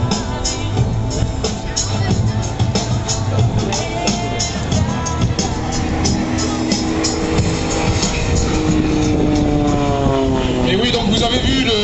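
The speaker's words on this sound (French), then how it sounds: "Vous avez vu que cet avion pouvait voler très vite." A propeller aircraft performs an aerobatic display at the NATO Tiger Meet air show in Cambrai, its engine drone rising and falling in pitch as it passes, partly under music and a French commentator's voice over loudspeakers.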